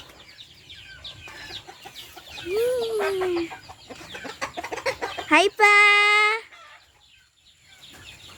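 Chickens cluck and a rooster gives a short crow nearby on a provincial Filipino farm, with brief bursts of talking in Filipino in between.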